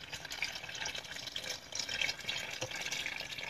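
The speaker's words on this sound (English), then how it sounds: "we're going to use the water that we boiled the chicken in to begin with" Chicken boiling water pours into a soup pot, a steady splashing trickle with small drips, close and moderately loud, no talk.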